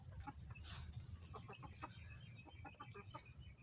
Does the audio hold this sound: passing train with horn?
no